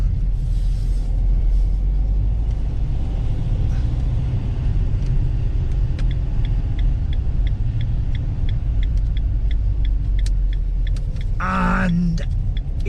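Car driving round a corner on the way to a village pub by the harbour, a steady loud engine and road rumble inside the vehicle, with a few faint ticking clicks and a brief sharper noise near the end.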